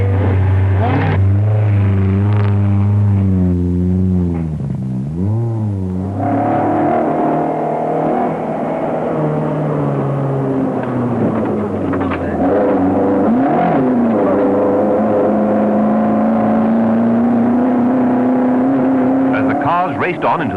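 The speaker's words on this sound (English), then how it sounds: "the first cars were already pulling out of Mombasa" Rally cars pull away from the 1971 East African Safari Rally start at Mombasa, engines droning and revving loudly and continuously under a talking voice.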